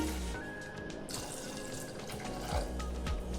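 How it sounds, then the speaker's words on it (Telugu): Water pours steadily into a metal pressure cooker over chickpeas, a continuous splashing flow with a faint gurgle, heard up close. "ఇందులోకి శనగలు మునిగేంత వరకు నీళ్లు పోసుకొని"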